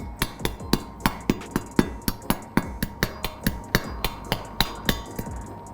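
Crispy roast pork crackling on a Christmas roast being tapped, giving a steady run of about two dozen sharp, hollow, drum-like knocks close to the ear, evenly spaced and ringing briefly, with no talk.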